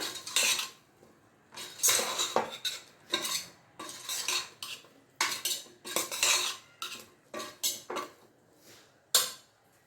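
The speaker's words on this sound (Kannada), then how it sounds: "ಖಾರಕ್ಕೆ ಎಷ್ಟು ಬೇಕೋ ಅಷ್ಟು ಮೆಣಸಿನ ಪುಡಿ ಹಾಕಿ ಮಿಕ್ಸ್ ಮಾಡ್ಕೊಂಬಿಡೋಣ" A spoon stirs mushroom sambar with chili powder in a metal pot, giving bursts of scraping and clinking in an irregular rhythm, close and loud with short pauses between strokes.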